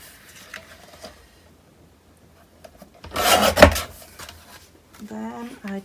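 Paper pieces are cut for decorating pages, heard as a brief, close rasping cut in the middle between quiet handling noises, with faint voiced sounds near the end.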